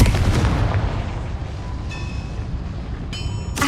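A Confringo spell in the Hogwarts Legacy video game erupts in a loud, booming blast with a rumbling tail, followed by bright chiming magical effects near the end.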